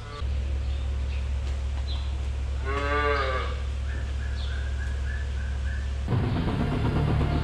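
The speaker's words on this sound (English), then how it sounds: "Bringing the special needs cows into the parlor now." A dairy cow gives one loud, drawn-out moo as cows are brought into a milking parlor on Christmas morning, over a steady machinery hum, with some faint bird-like squeaks afterward.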